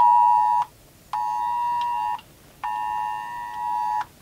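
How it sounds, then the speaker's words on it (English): A phone's emergency tornado warning alert sounds as three loud, steady harmonic tones separated by short gaps, clear and up close with no talking over it. "my phone is giving a tornado warning"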